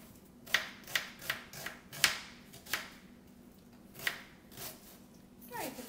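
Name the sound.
knife chopping a small onion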